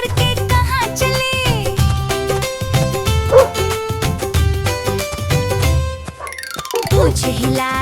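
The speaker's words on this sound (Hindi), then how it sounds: "कुत्ता राजा कहाँ चले, भौं भौं करके कहाँ चले।" A cartoon dog yips and barks in a Hindi nursery rhyme, its cries woven through loud, bouncy children's music that plays continuously, with a short break before the tune resumes.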